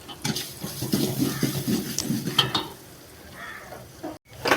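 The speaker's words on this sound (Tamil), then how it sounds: "வெங்காயம் நல்லா வணங்கணுங்க. இன்னும் கொஞ்சம் வணங்கணுங்க." Sliced onions fry and get stirred in a pan as part of a mushroom biryani in a catering kitchen. A soft, steady sizzle runs under scraping and clinking of a spoon against the metal pan, with no speech.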